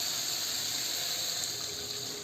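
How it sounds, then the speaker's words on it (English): Water poured steadily into a cooking pot of smashed tomatoes for tomato rasam, a continuous close rushing splash lasting the whole moment with no talk. "So now we are going to add the water."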